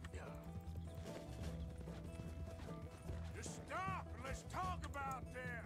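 Horse hooves clip-clopping in the video game Red Dead Redemption 2, a steady rhythmic trot mixed under game music and other in-game sounds.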